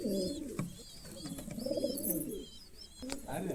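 A Girebaz pigeon from a 40-year-old line coos close by in soft, rolling, low calls, with faint chirps and a voice heard quietly in the background.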